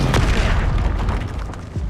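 Fiery spell blasts detonating in Hogwarts Legacy, a dense run of loud booms and bursts packed close together with rumbling low end and no clear gaps.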